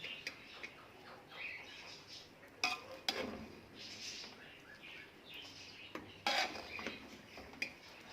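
A spoon scraping and clinking in a pot as freshly steamed restaurant-style chicken tikka biryani is mixed, with faint, sporadic metallic taps and soft rustling of rice at low volume.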